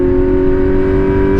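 Kawasaki Z900 motorcycle engine held at steady high revs under full throttle, a loud, even droning hum that carries without a break.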